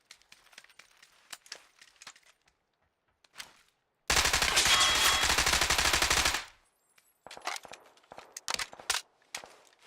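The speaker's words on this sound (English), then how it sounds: "One's trying to shoot at me. Nope, they're trying to shoot a gas can." A long, loud burst of rapid automatic fire from a PUBG match rips through for about two seconds, framed by quieter scattered clicks and footstep-like taps before and after.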